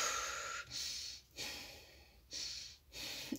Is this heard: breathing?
yes